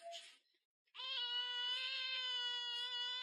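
Cat giving a single long, drawn-out meow close up, preceded by a short human sound and a pause of silence.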